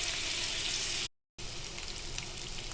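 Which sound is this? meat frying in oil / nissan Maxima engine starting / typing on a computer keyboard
meat frying in oil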